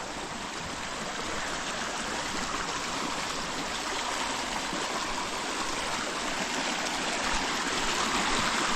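Water flows steadily in a stream beside a planted garden plot, a close, continuous rushing and gurgling wash with no pauses and no voices.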